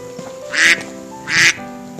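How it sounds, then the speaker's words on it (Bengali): A duck quacks twice, about three-quarters of a second apart, loud and close over a faint steady background. "অকস্মাৎ তাহার মধ্যে একটি হাঁস ডেকে উঠল।"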